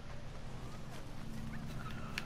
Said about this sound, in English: Birds! Oh crap.